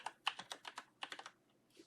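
Typing on a computer keyboard: a quick run of about a dozen sharp, close key clicks in an uneven rhythm with a brief pause midway, fairly quiet and alone, with no speech.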